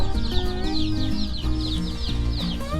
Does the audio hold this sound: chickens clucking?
yes